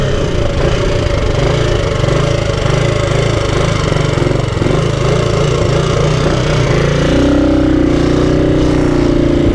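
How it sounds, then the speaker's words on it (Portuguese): Suzuki Intruder 250 chopper motorcycle engine running close and loud, a steady throbbing idle that rises in pitch toward the end as the throttle opens. "Que moto maravilhosa, cara."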